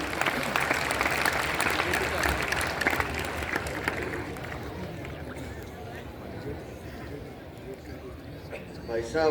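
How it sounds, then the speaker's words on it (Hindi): Audience applause welcoming Virendra Sachdeva at a ceremonial gathering in Bharat Mandapam, a dense crowd clapping that swells early and thins out, with a voice speaking over it and babble around. "माननीय वीरेंद्र सचदेवा जी, तालियां बजा के अभिनंदन"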